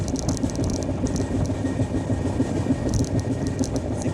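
The 12757 Kaghaznagar SF Express runs at high speed, around 120, with a continuous loud rumble of wheels on rail and rhythmic clickety-clack joint beats throughout.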